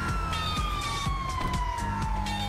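Ambulance siren from GTA V, a steady wailing tone that slowly falls in pitch, sounding continuously and loud over thumping game background sounds.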